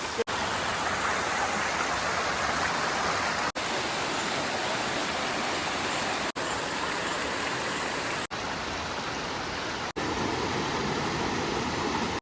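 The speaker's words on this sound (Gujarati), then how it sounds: "ઉપર જે ધોધનું પાણી પડે છે તે અહીંયા આવે છે તો અહીંયા પણ આપણે જોઈશું અહીંયાથી વહેતું પાણી આગળ જાય છે" Steady broadband rush of a monsoon waterfall's runoff flowing through a stream in the Pavagadh jungle, loud and continuous with no voices, interrupted only by a few brief cuts.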